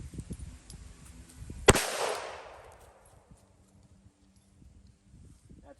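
A single sharp gunshot fires a .45 ACP ball round at Minuteman soft body armor. The crack is loud and close, and it rings briefly and fades amid faint outdoor background noise.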